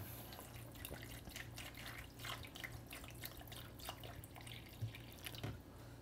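Water trickles and drips onto an iPhone 12 Pro Max in a freeze test, a faint, irregular patter of small splashes over a steady low background hum.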